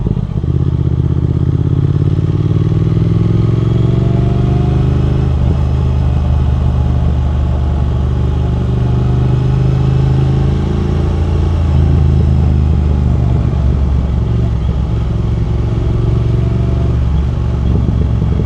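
A Triumph Thruxton R 1200 motorcycle engine running steadily up close, a loud, even drone with slight shifts in pitch and no voices.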